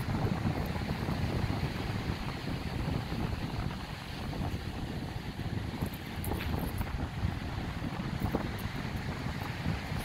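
Strong wind on a beach in Malibu buffets the microphone in constant low rumbling gusts, with surf washing faintly underneath; no one speaks.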